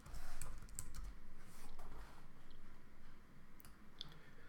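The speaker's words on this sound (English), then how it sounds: "So I'm going to type that in there" Typing on a computer keyboard, a steady run of quick, soft key clicks up close over a low background hum, quiet and without talk.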